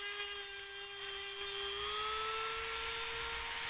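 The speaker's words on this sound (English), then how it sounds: "using my Dremel tool, I cut off the bottom piece of the cap" A Dremel rotary tool cuts through a plastic Gatorade bottle cap, giving a steady, high-pitched whine that holds one tone and rises slightly in pitch partway through, close and continuous with no talking.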